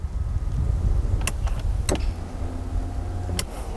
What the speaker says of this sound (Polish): po wciśnięciu tego pstryczka, fotele są sterowane w pełni elektryczne